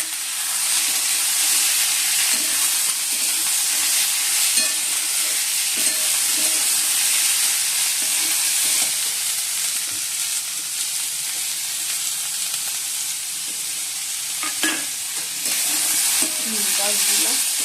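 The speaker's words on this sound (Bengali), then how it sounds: "কড়াইতে তেলও দিয়ে দিচ্ছি, কালো জিরে ফোড়ন দিয়ে দিচ্ছি" Hot oil with a nigella seed tempering fries in a kadai, a loud, steady, close sizzle that holds for the whole stretch with faint occasional clinks underneath and no talk.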